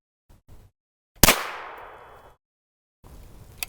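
A single sharp, loud rifle gunshot through a .45 caliber suppressor on a Hi-Point long barrel carbine cracks and rings out briefly, with faint clicks and handling noises before and after.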